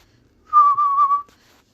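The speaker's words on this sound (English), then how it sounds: "Hiruzen starts whistling slowly." A person whistles slowly, one clear sustained tone with a slight wavering dip, lasting under a second, close and clean against silence.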